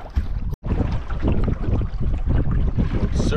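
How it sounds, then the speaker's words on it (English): Strong gusty wind at a misty wilderness campsite buffets the microphone with a loud, steady low roar, briefly cutting out once near the start. "It's quite windy."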